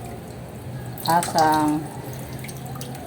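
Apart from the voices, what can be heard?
water tap running low while cleaning fish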